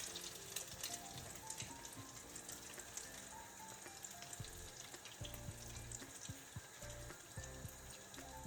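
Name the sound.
shrimp frying in a pan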